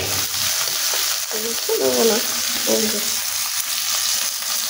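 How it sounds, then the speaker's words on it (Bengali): Tomatoes sizzle and crackle in a hot pan for a village-style spicy chicken curry, a steady close frying hiss while someone speaks briefly over it. "টমেটোগুলো একটু ভাজা ভাজা হয়ে গেল"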